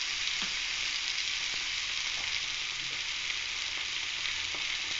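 Mustard-seasoned dal frying in a pan, a steady loud sizzle running unbroken with a few faint stirring taps, no talking.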